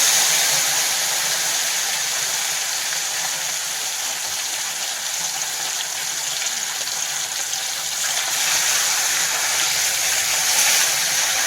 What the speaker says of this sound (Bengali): মাছগুলো প্রথমে ভেজে নিচ্ছি